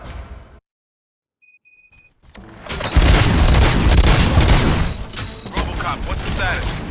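Loud bursts of gunfire and explosions erupt in RoboCop: Rogue City after a brief silence and a few electronic beeps, a dense chaotic roar of shots and booms that keeps going.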